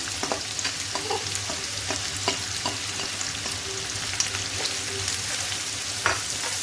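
Onions frying in hot oil with cumin and nigella seeds, a steady close sizzle with crackling pops and occasional spatula scrapes throughout, no voices.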